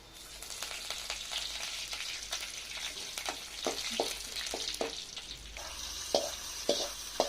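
Stirring a frying tempering in a pan with curry leaves added, for yellow pumpkin kara kuzhambu: a soft, steady sizzle with repeated spoon strokes scraping the pan, fairly faint and without speech.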